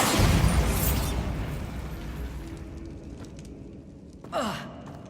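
Hogwarts Legacy's Bombarda spell goes off as a loud burst at the start that trails into a long fading rumble, followed later by a brief whooshing flare.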